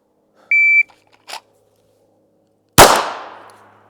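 Pistol shot fired at a target in a shooting drill, one loud sharp report with a decaying ring, preceded by a short electronic timer beep and a faint click, close, no talk.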